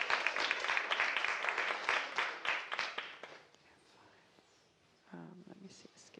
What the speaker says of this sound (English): Applause, yeah.